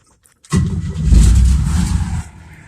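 A 1993 Ford Ranger XLT pickup cranks and catches on a cold winter night, the engine roaring to life loudly after a brief silence, then holding a rough running rumble before dropping off.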